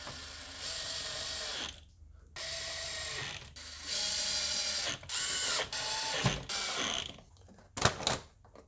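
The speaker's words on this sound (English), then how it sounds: "And let's tighten the screws in." Ratchet wrench clicking as it tightens the air filter cover screws on a Volkswagen Passat B6 1.6 TDI, close and loud, in several bursts of rapid pawl clicks separated by brief pauses.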